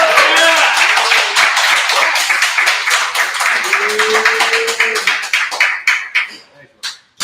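An open mic comedy audience on a Wednesday night applauds loudly after a set. The dense clapping has a brief voice in the middle and thins into a few scattered claps at the end.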